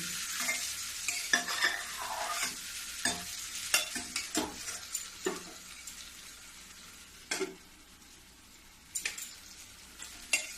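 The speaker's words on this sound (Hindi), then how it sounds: "देखो इसी प्रकार मैं बीच बीच में चलाऊंगी। 5 मिनट तक मैं इसको भूनूंगी।" Mixed dalia and vegetables frying in a pan with a soft constant sizzle, broken by intermittent spoon scrapes and clanks against the metal as the mixture is stirred now and then.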